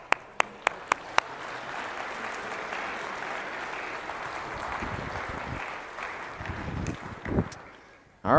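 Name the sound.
audience applause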